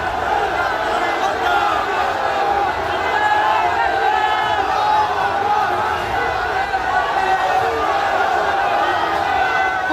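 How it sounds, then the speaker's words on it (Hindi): A large, agitated crowd of protesters chanting Allahu Akbar slogans at a tense street protest in Saharanpur, a dense continuous roar of many voices throughout. "देखते ही देखते भीड़ अल्लाहू अकबर के नारे लगाते हुए"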